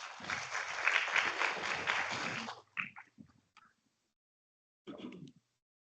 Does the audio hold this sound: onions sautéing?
no